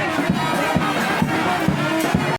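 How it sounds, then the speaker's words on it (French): A jubilant crowd at an election campaign rally in Kwango launching President Félix-Antoine Tshisekedi's campaign, a dense, loud wash of cheering voices with rhythmic chanting pulses, sustained throughout. "Il a été accueilli par une foule venue en liesse"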